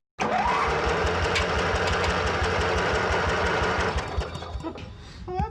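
A small MTD lawn mower engine cranks during a compression test, starting abruptly with a fast, loud, steady mechanical chugging for about four seconds before tapering off into lighter rattles.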